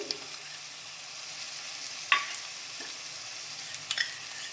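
Spices including turmeric and coriander powder sizzle in a pan on a lowered flame for a sprouted green moong dal gravy, a steady soft hiss broken by a few clinks of stirring, close and quiet.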